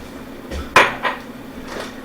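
Reduced sauce for clams casino transferred into a little bowl in a kitchen, heard as one sharp dish clink followed by a softer knock and faint clatter, close and with no talking.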